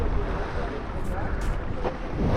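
Strong wind blows across the Perito Moreno glacier in Patagonia, Argentina, buffeting the microphone with a loud, steady rush and roar throughout, with no voices.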